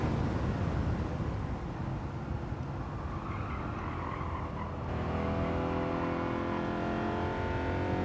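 Race car engines in the Gran Turismo 7 video game during an online multiplayer race, a steady loud engine drone with a rising rev partway through and no talk.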